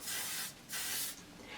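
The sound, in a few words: hairspray being sprayed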